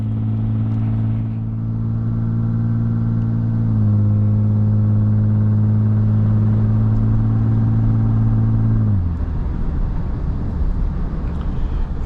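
Engine hum from a Lexus IS250 driving through a snowstorm, steady and close, with the tone stepping down partway through, then shifting to a rougher, noisier rumble near the end.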